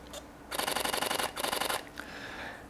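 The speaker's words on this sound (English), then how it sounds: "both will record with the mechanical shutter in a very, very soft noise like this" A rapid burst of soft mechanical shutter clicks from a Canon R5 or R6, then a short pause and a second burst, like a camera firing continuous frames up close.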